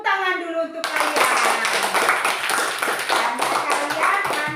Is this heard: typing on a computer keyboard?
no